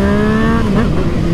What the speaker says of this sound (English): Yeah, MT-09, baby, sounding proper.